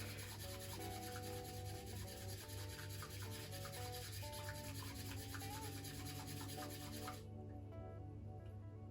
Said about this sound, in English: Then you are beautifully whisking the matcha.